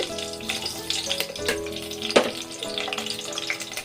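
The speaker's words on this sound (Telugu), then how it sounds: "ముందు ఇందులో పచ్చిమిర్చి చీలికలు వేసుకోవాలి" Slit green chillies fry in a generous amount of oil for a fish curry, making a close, steady sizzle with bubbling spatter and a brief louder burst partway through, with no talking.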